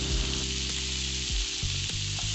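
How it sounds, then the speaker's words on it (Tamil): Tomatoes and coriander leaves sautéing in a pan for paneer butter masala, a steady close sizzle and frying hiss with a few stirring scrapes, no talk. "இது கூடவே கட் பண்ணி வச்சிருக்க தக்காளியும் சேர்த்து நல்லா வதக்கிக்கலாம்"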